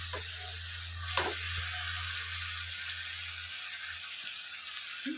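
Boiled green jackfruit drops into hot spice paste and fries with a bright continuous sizzle, with a few sharp stirring knocks near the start over a low steady hum.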